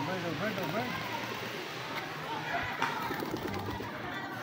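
Many pigeons coo softly outdoors in repeated low, rolling calls, with people talking over them throughout.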